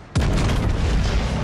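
A ship's guns firing in World of Warships: Legends, one sudden loud boom that opens into a dense, sustained roar filling the whole short moment.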